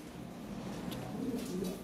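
Lahori pigeons, imported birds kept in a farm loft, coo in a steady low murmur of overlapping calls that runs throughout, with faint rustling in the background and no speech.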